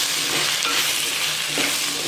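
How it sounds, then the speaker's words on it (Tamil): Vegetables for sambar sauté in a pan with salt and sambar powder while being stirred, giving a steady, close, dense sizzle with soft scraping throughout and no voices. "சாம்பார் பொடி எல்லாம் போட்டு நல்லா கலந்து விட்டுடுங்க"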